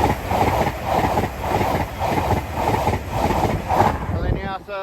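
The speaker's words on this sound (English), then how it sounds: "Passing through now is a Transpine Express service off to Newcastle." A TransPennine Express passenger train bound for Newcastle passes close by a level crossing, its loud, steady rumble and rhythmic wheel clatter filling the scene before brakes or wheels squeal briefly at the end.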